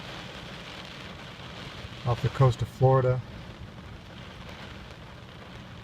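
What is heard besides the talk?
rain falling on car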